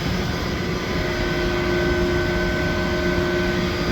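Continuous machinery hum from a boiler's circulation pump running under a central heating demand, with steady tonal lines and broadband mechanical noise holding an even level throughout, no voices.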